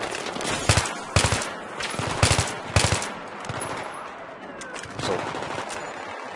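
Battlefield 3 gunfire rattles out in several sharp bursts, loud and close, with scattered reports between, in a hectic war-shooter firefight.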